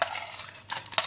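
A spoon scrapes and clinks briefly against a cooking pan, stirring cumin seeds and chana dal for garlic fried rice, with two quick metallic strokes standing out in a short, close burst.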